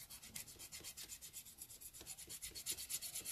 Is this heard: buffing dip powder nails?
yes